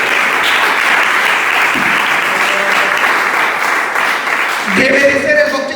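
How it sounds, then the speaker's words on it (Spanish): A church congregation claps together in a loud, sustained round of applause that carries on without a break. Near the end a voice begins speaking over it. "Dele una ofrenda de aplauso."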